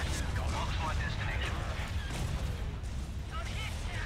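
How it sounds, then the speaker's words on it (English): Venator star destroyers fire cannon broadsides in the Star Wars: Republic at War strategy game, producing a dense, continuous rumble of booming artillery blasts that overlap without a break. "Broadsides on both sides. Excellent job. Love me some Venators. Good stuff. Fire all batteries."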